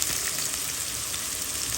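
Minced garlic and tomato fry in a hot pan for a Bangladeshi-style beef brain dish, giving a steady bright sizzle that stays close and even throughout, with no talking.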